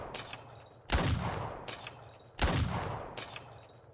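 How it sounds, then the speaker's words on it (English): Gunfire followed by shattering glass in the video game Arknights: loud sharp blasts with long crashing, ringing decays, repeating in a steady pattern of strong and lighter hits. "Gunshots, then the sound of breaking glass."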